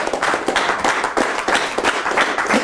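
A round of audience applause, brief and moderately loud, with a cluster of hands clapping steadily and no voices over it.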